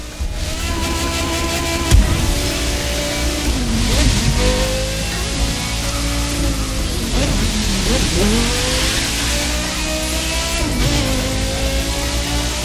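A Porsche Carrera GT engine in the video game The Crew 2 revs loudly and continuously, its pitch sweeping up and down through repeated gear changes, with a few voice-like bursts mixed in.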